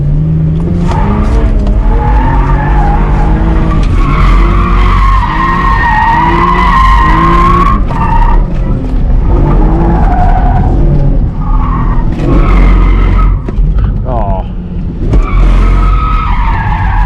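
Tires on an automatic V6 Camaro shriek continuously as it drifts at a track, wavering squeals layered over a revving engine, loud and near for the whole stretch with brief dips between slides.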